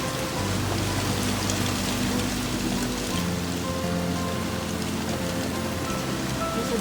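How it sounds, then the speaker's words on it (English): Heavy rain pours steadily onto a boat lying at anchor, a dense continuous hiss and patter close by with no talk, the downpour constant throughout. "Look at that rain."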